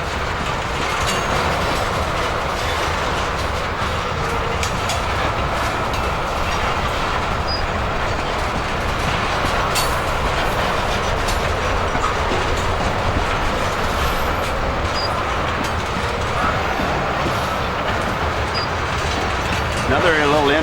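A Canadian Pacific freight train hauling Bakken crude oil rolls past in Minnesota, with continuous rumble, clickety-clack of wheels and occasional faint squeals, loud and sustained; a person talks at times over it.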